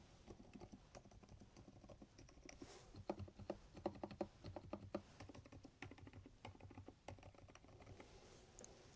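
Steady, fast typing on a Gamakay TK75HE V2 Hall effect magnetic-switch keyboard, soft quick dampened key clicks in an uneven patter, fairly quiet and close.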